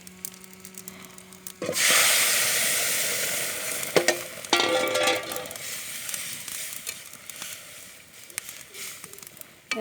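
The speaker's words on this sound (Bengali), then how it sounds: "পেঁয়াজটা ভাজা ভাজা হয়ে গেছে এবার আমি তরকারিটা দিয়ে দিচ্ছি" Vegetables go into a pan of fried onions with a sudden loud burst of sizzling, then a fading hiss broken by clattering stirs and scrapes, with no voices.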